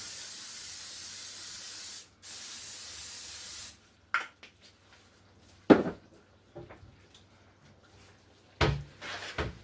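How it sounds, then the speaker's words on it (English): Two steady hissing bursts of aerosol cooking spray, separated by a brief pause, followed by quieter clicks and knocks of a lid or cupboard. "I'm just going to get some spray."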